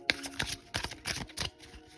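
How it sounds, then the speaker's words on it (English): Tarot cards of standard tarot size are overhand shuffled close up, several quick papery bursts of riffling card edges at an uneven rhythm, with brief quiet gaps between bursts. "And then the overhand shuffle as well."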